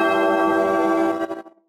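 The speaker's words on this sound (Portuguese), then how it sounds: "Toca o sino," A church bell rung by the sacristan during a novena for Santa Luzia gives one loud, clear, resonant strike that hums steadily for over a second, then fades quickly into silence.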